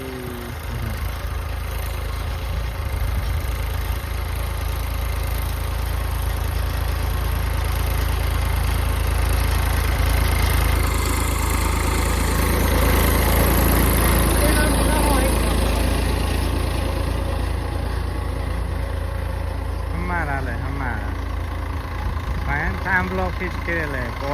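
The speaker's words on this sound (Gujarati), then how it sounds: "ટ્રેક્ટર આવે ટ્રેક્ટર આવે" A tractor engine drones steadily at close range in a rural farm setting, a constant low rumbling idle that swells slightly as it approaches, with voices talking over it.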